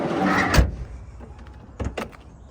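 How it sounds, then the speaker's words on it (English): The powered automatic sliding door of a 1997 Honda Stepwagon moves with a whirring motor, then ends in a few clunks and latch thuds, close and loud. "Automatic door, or automatic locking door."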